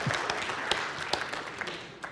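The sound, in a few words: audience applause at a magic show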